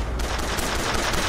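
Rapid automatic gunfire from the video game Bioshock Infinite, a dense, sustained burst of close shots rattling without pause.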